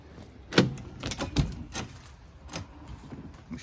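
The curbside entry door of a 2022 Chevrolet G4500 McCoy Miller Type III ambulance is worked, giving a couple of sharp, close clunks and latch clicks followed by fainter rattles in a quiet interior.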